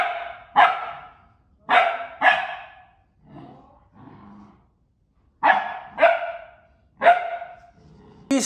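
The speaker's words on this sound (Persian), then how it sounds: "این سگک نو ماست." A new puppy barks in bursts of sharp, high yaps, mostly singles and pairs spaced apart with softer whines and growls between them, loud and close with no talking.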